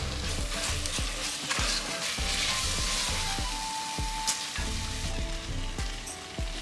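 Pasta sauce with chopped coriander is stirred in a pan, giving a soft steady sizzle with repeated scraping strokes of the spoon, close by and with no voices.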